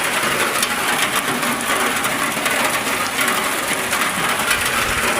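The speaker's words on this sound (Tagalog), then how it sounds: "Lakas ng ulan ang dilim." Heavy rain pours down outside a school in a dark downpour, a dense, loud, unbroken roar and hiss that stays steady throughout with no voices.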